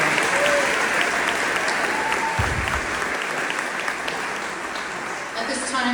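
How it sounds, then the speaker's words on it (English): A crowd applauds, a loud, sustained, dense round of clapping filling the whole stretch, with faint voices underneath. "I really wanted all of us to give Angelina one more round of applause."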